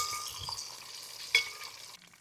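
Quail, a native Kerala breed, laid flat and frying in hot oil in a pan, giving a steady close crackle and sizzle with a brief louder spit midway before the sound drops away near the end.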